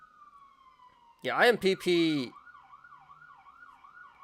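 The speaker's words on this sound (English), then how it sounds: "Here comes the sirens." A siren wails outside, its steady tone sliding down before shifting into a rapid warbling yelp, heard at a distance while someone speaks briefly over it.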